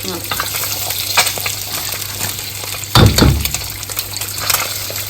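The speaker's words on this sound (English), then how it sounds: "add a little oil to the pan and start frying the eggs" Eggs fry in hot oil in a pan, a continuous close sizzle with scraping stirs and a sharp burst of crackling partway through.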